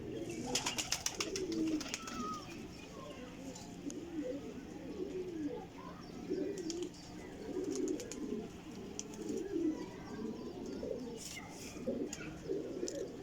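Breeder pigeons coo softly and repeatedly at close range, with low rolling calls running throughout and a few faint clicks and rustles.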